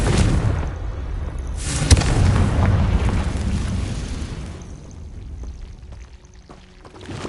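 A Confringo fire spell bursts in Hogwarts Legacy, heard as a loud rumbling explosion with a heavy low boom that rolls on and slowly fades, alone without talk.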